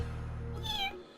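A person imitates a kitten's meow with one short, high, wavering mew over a low steady background hum, close to the microphone.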